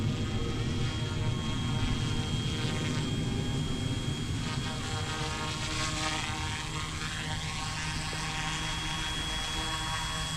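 Eachine E186 Bell 206 park-flyer RC helicopter descending, its small rotor and motor giving a steady whining hum with a high tonal whine held throughout, moderately close with no talking.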